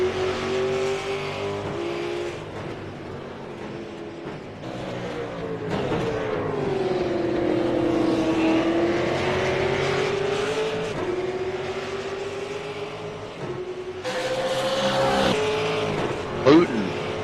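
Race cars a lap down battle for 11th and 12th position on a circuit, engines droning and rising and falling in pitch as they pass, with a sharp burst near the end and a commentator talking over the racing.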